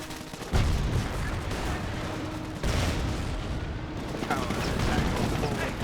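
Battle gunfire from the real-time strategy game Company of Heroes, bursts of rifle and machine-gun fire with heavier booms, dense and continuous, with a commentator's voice talking over it.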